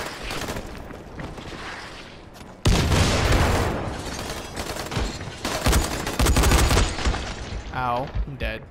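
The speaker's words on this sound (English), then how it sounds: "Shit, grenade!" A grenade blast and bursts of gunfire in the zombie game Dying Light, a loud sudden boom followed by dense sustained shooting, with a voice calling out near the end.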